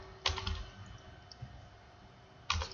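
Keystrokes on a computer keyboard while entering a network address into router configuration, two short bursts of clicks at the start and end with a quieter gap between, close and clear with no talking.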